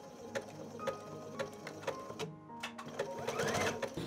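A sewing machine runs in short bursts, lock stitching a blouson seam with a rapid close mechanical whir and soft ticking, pausing briefly partway through.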